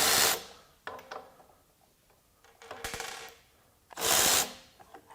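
Milwaukee 2566 M12 FUEL cordless ratchet whirring in loud short bursts, with clicking and clattering between runs as it strains and stalls under load.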